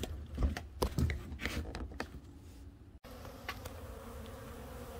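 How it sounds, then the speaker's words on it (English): Honey bees drone around a beehive feeder, a steady close buzz that swells and fades as individual bees pass near, broken by a few soft bumps and knocks. "I'll go show you the bees"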